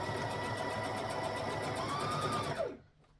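Sewing machine stitching and back-stitching Christmas shorts, a fast even needle rattle with motor hum, close and steady, winding down to a stop near the end.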